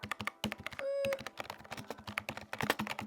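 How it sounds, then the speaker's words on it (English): Keys and a wobbly spacebar on a cheap keyboard bought from Temu clatter in quick, uneven bursts of close clicks, with a brief steady tone partway through and no talking. "this literal spacebar is already so wonky"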